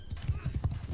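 Horse hooves clatter in a quick, rhythmic gallop in the video game Mount & Blade II: Bannerlord, close by and steady throughout the short burst.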